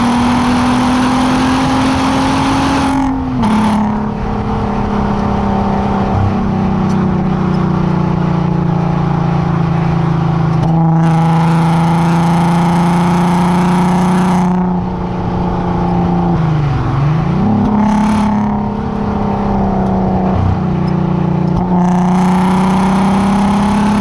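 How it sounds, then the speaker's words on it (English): A V6 engine in a Volkswagen MK5 R32 revs loudly and steadily, its pitch rising and dipping through several throttle blips over a sustained idle, with no voices. "There's just something about the V6 engine, like the noise that it makes"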